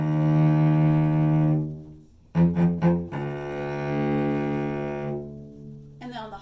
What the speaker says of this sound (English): So here's what it sounds like on the low side.